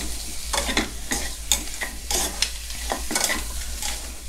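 Pork ribs stir-fried in a hot pan, with a continuous sizzle and repeated scraping strokes of the spatula at an uneven rhythm, close up and fairly loud, with no talking.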